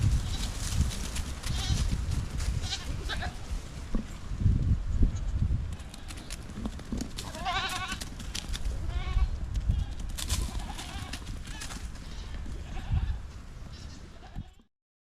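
Goats kept near a house bleat repeatedly, a mix of near and farther calls over outdoor noise, with a brief stretch of talk mid-way before the sound cuts off.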